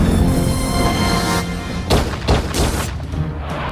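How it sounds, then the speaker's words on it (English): Loud, dense bursts of gunfire, several sharp cracks in quick succession over a rumbling, noisy background. "Gunshots ring out and Smith's car is drifted into a nearby hou"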